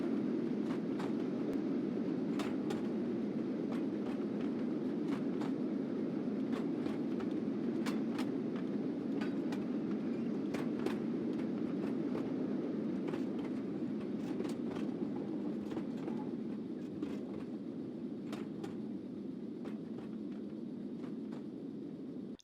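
Freight train of empty DODX flat cars rolling past in the Trainz railroad simulator, a steady, even rumble with faint rhythmic wheel clicks throughout, fading slightly near the end.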